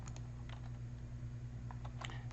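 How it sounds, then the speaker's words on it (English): A few quick computer keyboard and mouse clicks, faint and close, in small clusters over a low steady hum. "Let's click on login with Google"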